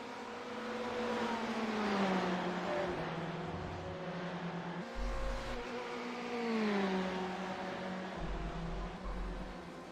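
A GTE race car engine screams down a straight at Interlagos in iRacing. Its pitch climbs steadily through the gears in a sustained, loud whine with brief dips at the upshifts.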